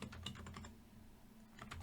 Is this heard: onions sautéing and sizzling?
no